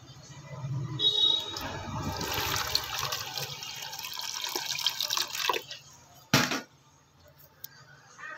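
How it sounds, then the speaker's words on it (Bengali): Water is poured onto a repaired plastic tub in splashing, trickling bursts, with dripping and a sharp splash near the end, fairly close. "তাই জন্য আমরা একটু জল দেবো"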